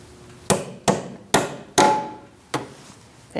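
Hammer strikes locking a brake hose retaining clip on a 2006-2011 Chevrolet HHR, five sharp metallic taps in a quick uneven rhythm, close and fairly loud.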